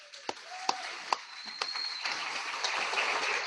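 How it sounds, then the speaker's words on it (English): Audience at a healthcare organization summit applauding its Joint Commission team: a few scattered, sharp claps grow into steady, dense applause filling the room. "One more round of applause for our Joint Commission team"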